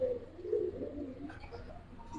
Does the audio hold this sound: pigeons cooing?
yes